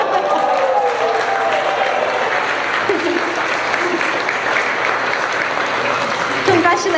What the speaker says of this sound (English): Big round of applause for Clarissa.